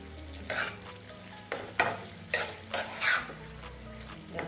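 Vegetarian katoa data (drumstick) curry being stirred in a pan, with a spoon scraping through the thick mixture in a few separate strokes over a low background sizzle, close and moderately loud.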